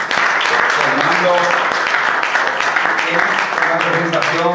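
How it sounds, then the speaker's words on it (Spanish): Audience applause closing a book presentation at a university faculty of education, a dense, steady clatter of clapping held loud throughout, with harmonic tones and a voice or music woven through the crowd noise. "vamos a despedirnos con un aplauso a Fernando"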